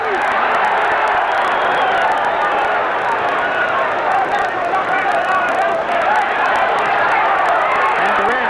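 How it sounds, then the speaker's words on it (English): A restless arena crowd at the Marvin Hagler vs Roberto Duran boxing fight keeps up a loud, continuous hubbub of murmuring voices and scattered calls. "And the crowd's a little restless because both fighters are trying to get a breather."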